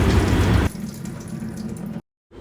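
Water from cooked suthriya noodles poured off through a strainer, starting as a loud gushing splash that drops to a softer trickle and then stops briefly.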